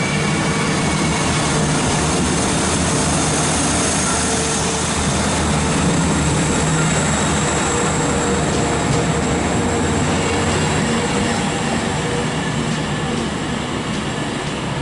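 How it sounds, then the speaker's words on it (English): Class 390 Virgin train, running delayed from London Euston to Manchester Piccadilly, arriving at Stockport station on the West Coast Main Line, a steady loud rumble of wheels and traction noise that fills the whole stretch with no pauses. "arriving as well is London Euston to Manchester Piccadilly"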